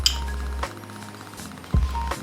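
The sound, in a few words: cracking caramelized sugar crust of crème brûlée with spoon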